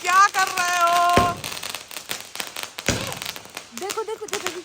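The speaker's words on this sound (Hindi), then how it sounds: "देखो खेलते हैं पटाखों से" Firecrackers and fireworks burst at a New Year celebration, sharp pops and crackles scattered through the clip, mixed with whistling rockets and nearby voices and shouts.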